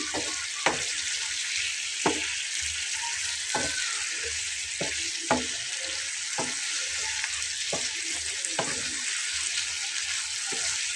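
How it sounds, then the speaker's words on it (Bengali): Egg curry is stir-fried in a pan, a steady soft sizzle broken by sharp spatula scrapes and taps every second or so, fairly quiet, with no talk. "হালকা হাতে একটু ভুনে নেব"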